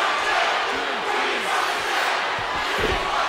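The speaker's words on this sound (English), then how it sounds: "this crowd starts to come alive in Columbus" Wrestling arena crowd in Columbus during a SmackDown tag match, a dense steady roar of many voices swelling into cheers and shouts, loud and continuous with no talk over it.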